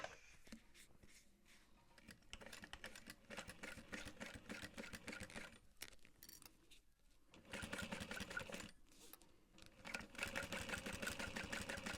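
A sewing machine runs in long, steady bursts while top stitching a backpack, with a short pause and a brief stop partway through. The motor whirs fairly close and even, with no talking.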